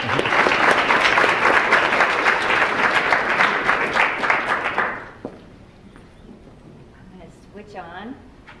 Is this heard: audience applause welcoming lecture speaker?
yes